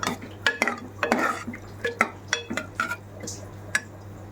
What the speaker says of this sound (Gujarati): ધાણા નાખી આપણે મિક્સ કરી દઈશું